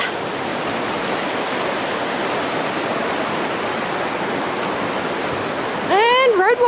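A river rushes beneath a metal bridge grating on a hiking trail, a loud continuous broadband roar with a voice calling out near the end.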